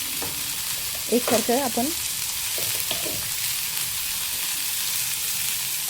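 Bitter gourd fries in oil with salt for a pickle while being stirred, giving a steady close sizzle throughout with a brief spoken phrase near the start.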